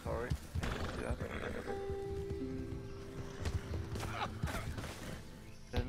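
A horse in the video game Red Dead Redemption 2 whinnies and snorts among hoofbeats and busy game-like sound effects, with a person talking over it.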